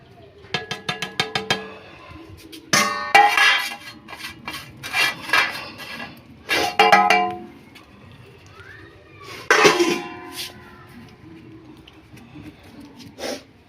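Rock salt, black salt, turmeric, ajwain, black pepper, charcoal and whole garam masala are mixed for pigeon grit, making irregular bursts of close clinking, rattling and scraping with quiet pauses between them and a voice heard briefly.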